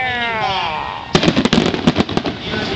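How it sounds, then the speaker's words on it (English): Fireworks from a July 4th finale in Lynn Haven, Florida: after about a second of quiet hiss, a rapid barrage of loud, crackling bursts and pops erupts and keeps going, close and dense. "looking at that incredible fireworks display"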